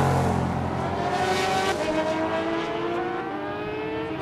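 A 1972 Chevelle drag racing in a Sportsman category at a West Coast hot rod meet, its engine roaring loud and sustained with rising and falling revs across the whole stretch.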